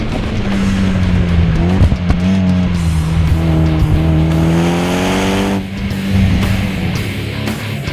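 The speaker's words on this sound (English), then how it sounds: "Hop on board and let's shred this canyon." A tuned 2013 Mitsubishi EVO X driven hard on a canyon road, its engine loud and close with rising and falling revs through gear changes and brief tire squeal through the corners.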